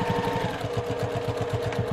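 A sewing machine stitching a quilt runs in a fast, even rhythmic hum and thump, close and steady, with no talk.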